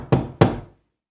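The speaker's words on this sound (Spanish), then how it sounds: "3 golpes secos en la puerta" Knocks on a door at night in a rural farmhouse, two sharp, heavy thuds about a third of a second apart, close and loud, each ringing briefly before fading into silence.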